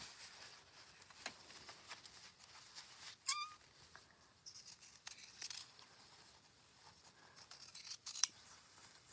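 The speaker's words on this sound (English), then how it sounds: "So I just trimmed down my pocket sides just so they don't get caught." Scissors trim the fabric pocket sides of a sewn bag, making faint, soft snips and rustling cloth in a quiet room.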